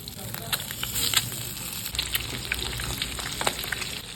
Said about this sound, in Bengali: এখন কড়াইতে আমি সর্ষের তেল দিয়ে নেব। এখন একটা একটা করে ডিম এরকম ভুট করে দিয়ে দেবো।